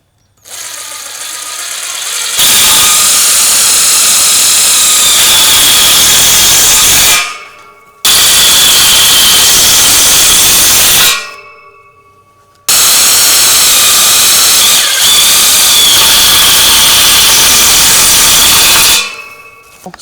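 Power tool drives screws into a porch rail in three long, loud, steady bursts separated by brief silences, with no voices.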